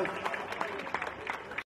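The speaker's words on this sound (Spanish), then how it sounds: "A la familia Martínez, esos aplausos." A crowd claps for the Martínez family at a dance in Ixhuatlán de Madero, Veracruz: moderate, scattered applause with talk mixed in, ending abruptly.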